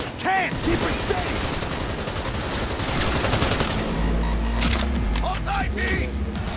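Rapid automatic gunfire during a car chase in Cyberpunk 2077, continuous and loud over engine rumble, with voices shouting urgently throughout.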